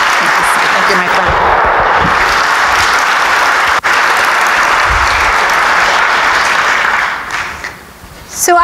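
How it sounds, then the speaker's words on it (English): A church congregation gives Caroline a large round of applause, loud dense clapping sustained for several seconds before tapering off near the end. "Let's give Caroline a very large round of applause."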